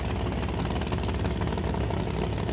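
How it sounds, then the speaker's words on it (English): Drag race car engine idling at a test session, a steady low rumbling idle with the throttle blipped briefly to keep the revs up, heard fairly close and continuous. "You can hear Steve giving a quick blip of the throttle, trying to keep the revs up"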